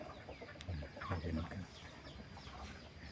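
A capon clucking softly nearby, a few short low calls over quiet outdoor background.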